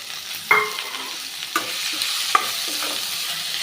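Chopped citron (narthangai) sautéed in a pan, a soft steady sizzle with a few sharp scrapes and clicks of a spoon against the pan, close and alone without talk.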